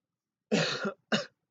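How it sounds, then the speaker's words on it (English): Two raspy coughs close to the mic, a longer one followed by a short second burst, with silence around them. "I don't know why I'm coughing"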